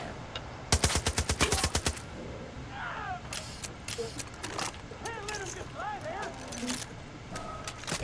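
Lever-action repeater rifle fire in the shooter game Far Cry 5 crackles in a rapid volley of sharp cracks early on, followed by scattered single shots, clicks and game effects, with people talking over the action.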